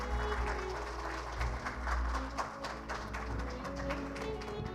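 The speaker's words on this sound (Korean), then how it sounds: "큰 박수로 모시겠습니다." Audience applause at a corporate awards ceremony for refrigeration dealers, welcoming a presenter; moderate, steady clapping from a room of people over a low background hum.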